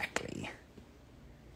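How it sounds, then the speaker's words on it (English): Chloe the dog gives one short, quiet bark right at the start, followed by near silence. "What are you barking at?"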